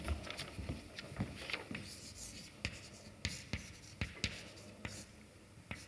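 Chalk scratching and tapping on a blackboard during a mathematics lecture, coming in irregular bursts of strokes with sharp taps, fairly close and alone without talk.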